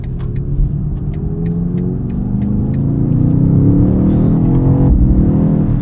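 A 2024 BMW XM Label Red accelerates hard, its drivetrain note rising steadily in pitch and growing louder, heard up close from inside the cabin with faint ticking above the roar.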